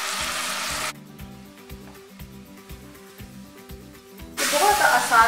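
Spiced meat being browned in a pan for tinday gosht (meat with round gourd), with a steady sizzle that flares louder at the start and end while a soft melodic tonal backdrop runs through the middle.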